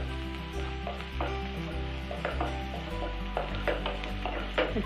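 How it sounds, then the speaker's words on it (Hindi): Onions for vermicelli upma fry on a high flame in a pan, giving a steady close sizzle with intermittent scraping and tapping from stirring, with no voices. "देखिए प्याज को मैं फ्लेम थोड़ा हाई कर भून लूंगी।"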